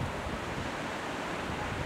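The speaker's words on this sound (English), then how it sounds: "Overhead waves that break into ankle deep water." Constant roar of surf, waves breaking and washing in without pause, mixed with some wind buffeting.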